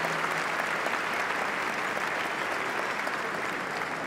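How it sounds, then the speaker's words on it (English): Graduating seniors at a high school commencement applaud their parents, a dense, steady wash of clapping from a large crowd filling the hall for about four seconds, with no voices rising above it. "Seniors, give your parents a round of applause for their continued support and enduring love."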